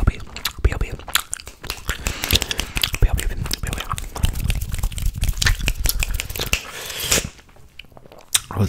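Gum is chewed right against the microphone in an ASMR setting, giving dense wet smacks, clicks and crinkly crunches in quick irregular bursts, with soft whispered speech mixed in and a brief lull near the end.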